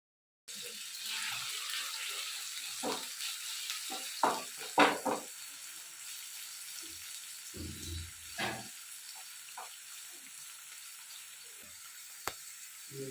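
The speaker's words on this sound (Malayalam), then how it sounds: "പാനിൽ വെളിച്ചെണ്ണ ഒഴിച്ചു അതിലേക്ക് സവാള ഇഞ്ചിയും വെളുത്തുള്ളിയും പച്ചമുളകും പിന്നെ കുറച്ച് കറിവേപ്പിലയും ഒക്കെ ചേർത്തിട്ട് ഒന്ന് വഴറ്റുന്നുണ്ട്" Onion, ginger, garlic, green chili and curry leaves sauté in coconut oil in a pan, giving a soft, steady sizzle with scattered stirring clinks and scrapes, faint and close, with no one talking.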